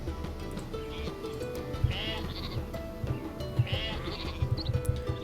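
Sheep bleat repeatedly in the video game Northgard, several overlapping calls rising over a busy game soundscape of soft thuds and ambient music, moderately close, with a voice talking underneath.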